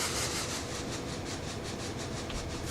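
Steady running of a train in Train Sim World 2, a continuous broadband rumble with a rhythmic rubbing, clattering pulse from wheels on track, moderately quiet, with no talk.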